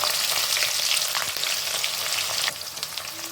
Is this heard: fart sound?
no